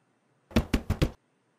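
A hand raps on a door four times in quick, even succession, close and loud, surrounded by silence.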